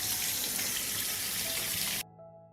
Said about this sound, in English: I will wash the peaches first because I only use clean and healthy fruit for canning.